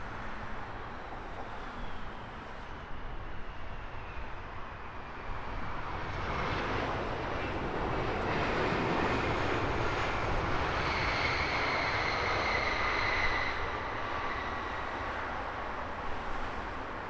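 Airliners coming in to land at Heathrow Airport, a steady broadband jet roar that swells after a few seconds and holds loud throughout, with a rising whine appearing near the end, no voices.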